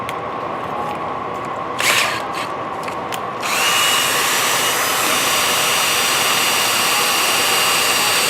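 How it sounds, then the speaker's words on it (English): A power drill whirs steadily and loudly, running a rubber planter mold, with a short burst of higher grinding partway through before the motor settles into a continuous high-pitched drone. "Then you're going to use your drill to run it."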